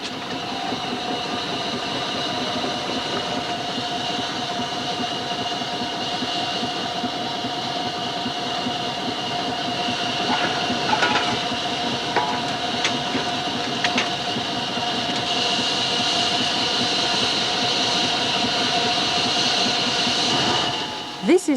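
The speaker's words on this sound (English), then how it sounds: "How does the driver control this traction engine?" A steam traction engine runs steadily and close by, a continuous rumbling mechanical drone with faint rhythmic clatter and a few brief clanks near the end.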